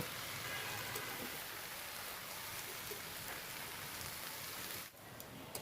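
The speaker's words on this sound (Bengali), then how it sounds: "এখন আলু বেগুনগুলোকে কিছুক্ষণ ভেজে নেব" Potatoes and eggplant frying in a pan for a vegetarian bottle-gourd greens dish, a steady dense crackling sizzle throughout with no talk, dipping briefly near the end.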